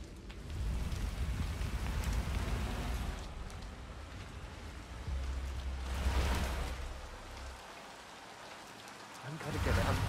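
Steady rain hisses across an outdoor scene in the video game Hitman 3, a continuous broadband wash with low rumbles beneath and brief swells, while someone talks over it now and then.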